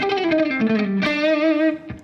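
Distorted electric guitar plays a syncopated lick built on a scale, with fast shifting notes and a sustained bent note near the end, loud and alone.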